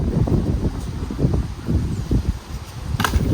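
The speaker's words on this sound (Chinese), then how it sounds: "今天的风很大很大，昨天也很大。" Strong gale-force wind blowing outdoors over farm fields during hot weather, a constant rough rumbling buffeting with gusts, loud and close with no speech.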